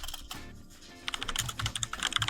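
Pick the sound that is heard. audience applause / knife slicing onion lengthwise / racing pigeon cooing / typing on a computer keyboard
typing on a computer keyboard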